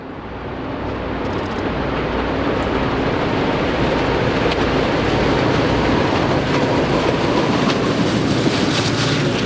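A loud, continuous roar of a heavy coal train rolling past in the St. Louis area, steady rumbling and clattering of wagons filling the whole stretch, with faint metallic squeaks.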